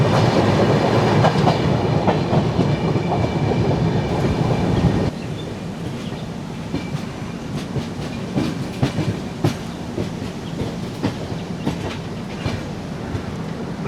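Duronto Express no. 12284 running from Hazrat Nizamuddin to Ernakulam, heard from inside an AC 3-tier coach: steady rolling rumble with rhythmic wheel clatter, louder for the first five seconds, then a quieter, continuous rattle.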